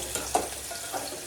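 Onion, tomato and garlic frying in a pan for Maggi noodles, a short soft sizzle with a couple of light stirring scrapes, close and alone.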